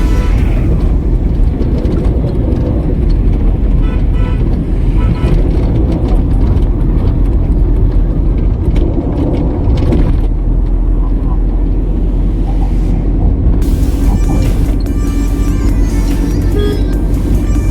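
Steady, loud road and engine rumble recorded from inside a moving car, with broadband wind and tyre noise that shifts in tone partway through and continues without a break.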